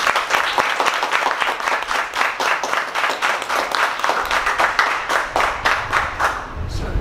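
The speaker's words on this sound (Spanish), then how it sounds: "Un aplauso a Santiago Rodríguez." Steady, dense applause fills a literary gathering of military writers discussing a book, many hands clapping continuously for several seconds with no talking.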